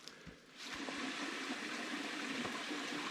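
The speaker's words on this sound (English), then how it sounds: "Well, first order of business is to filter some water. So, got to fill my bag here." Water trickling and gurgling as it is filtered into a water bag at a backpacking campsite on the Sipsey Fork trail, a steady close rushing flow that swells after half a second and keeps running.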